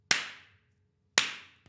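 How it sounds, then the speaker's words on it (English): Two sharp single hand claps in a room, spaced about a second apart, each followed by a short audible ring of echo decaying into quiet. "you can clap in a loud room, and you can hear if there is echo"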